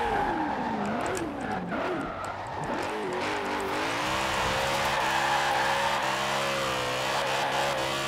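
A stock 2002 BMW M3-GTR drifting in Forza Horizon 4, its engine revving and wavering in pitch as tires squeal, then settling into a sustained high-revving drone, loud and close.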